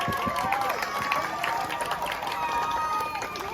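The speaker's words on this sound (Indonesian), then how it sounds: "tepuk tangan untuk kalian semuanya" Applause and cheering from a crowd at a final TPQ quiz contest in Kebonsari, Madiun, for the winning teams. Busy, dense clapping and voices run steadily throughout, with talk mixed in.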